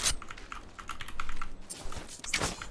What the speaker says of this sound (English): So you guys hear my new keyboard, by the way?